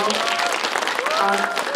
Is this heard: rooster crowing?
no